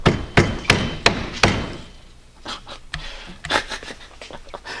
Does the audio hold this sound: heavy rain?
no